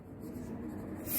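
Pen writing on paper during a class 3 maths lesson, a soft, faint continuous scratching heard up close for about a second.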